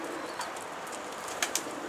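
A pigeon coos softly among a loft of Turkish tumbler pigeons, low steady murmuring with two brief sharper sounds near the end, no talk.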